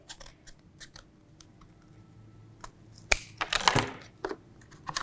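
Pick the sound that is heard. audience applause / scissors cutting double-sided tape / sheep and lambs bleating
scissors cutting double-sided tape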